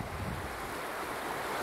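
A full river on Vancouver Island rushes in a steady, broadband wash of flowing water near dusk, heard close and unbroken, with no voices.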